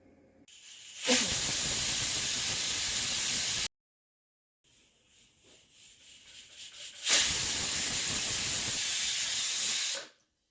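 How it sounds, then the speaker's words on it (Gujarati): Pressure cooker boiling potatoes lets out two loud, sustained bursts of whistling steam hiss, each a few seconds long, separated by a short quiet gap with a rising sputter before the second blast. "કુકરમાં 2 સીટી થઈ ગઈ છે"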